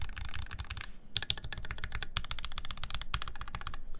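Mechanical keyboard with modded switches, a Wilba.tech Thermal build, typed on in rapid, close bursts of crisp clacks with two short pauses, steady and fairly loud throughout.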